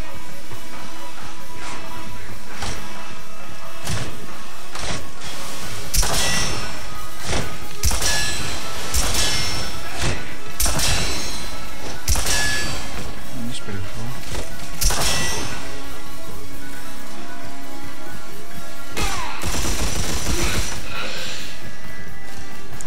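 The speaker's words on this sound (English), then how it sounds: "This is actually more like a nail gun." In Red Faction Armageddon, a nail-gun-like weapon fires a string of sharp metallic clanks and thuds, irregular and loud, with a voice speaking briefly between shots.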